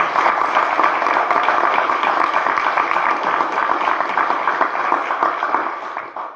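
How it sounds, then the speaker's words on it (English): Audience at a university debate on drugs applauds steadily, a dense wash of many hands clapping close and loud throughout, easing slightly at the very end. "just a round of applause for everyone involved tonight"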